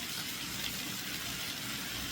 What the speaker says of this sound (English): I'm adding some chicken broth